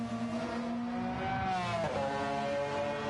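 McLaren F1 Longtail racing in Gran Turismo 7, its engine holding a loud, steady high-revving drone with a brief pitch dip and shift midway, continuous and close.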